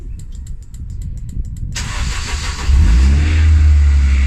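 An MK5 project car's engine cranks and catches at the ignition, a short whir of the starter giving way to a loud, steady low idle rumble that settles in close by, with no talking over it.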